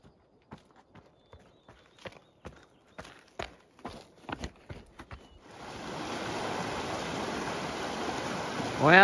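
A rushing mountain stream on a Montana trail toward Granite Peak comes in as a steady broadband roar. It follows a string of crunching footsteps walking up to it, with no talk.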